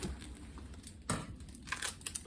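Plastic wrap on an orchid shipment being handled, giving faint crinkling and rustling with one sharper crackle near the middle, close by and with no talking.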